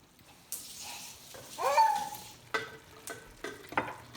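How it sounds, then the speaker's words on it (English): Beef browning in a pan for Korean beef bowls, a soft sizzle with faint stirring and scraping, a few brief clinks and shuffles over the few seconds, fairly quiet and close. "that's our beef that is browning at the moment"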